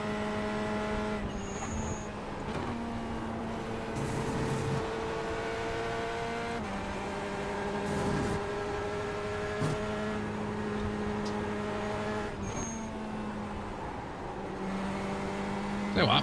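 A Porsche race car in a racing video game, its engine droning steadily at high revs with pitch rising and falling through gear changes, loud and constant throughout.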